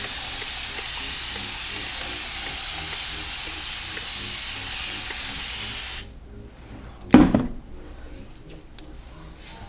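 A spray bottle sprays water onto hair in a steady hiss for several seconds, then cuts off, followed by a short louder burst and quieter rustling.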